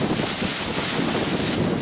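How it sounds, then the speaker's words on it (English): Strong wind buffets the microphone outdoors in the UK, a dense, continuous hiss and roar with low rumble, loud and unbroken throughout. "It's gone windy."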